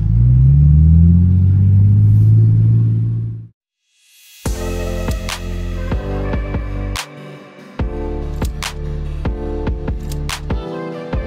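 Loud Ferrari and Nissan R34 cruising the busy streets of Shibuya, Tokyo: a heavy exhaust drone that cuts out abruptly, then sharp pops, crackles and revving bursts up close.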